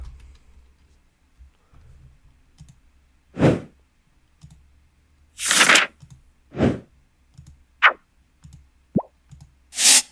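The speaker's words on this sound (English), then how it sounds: "so we can use a swipe sound effect" A series of short whooshing swipe sound effects play one after another in a video editor, each a brief bright burst separated by quiet gaps with faint clicks between.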